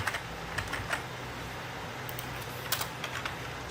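Code being typed on a computer keyboard, an irregular run of soft, close key clicks over a low steady background hum.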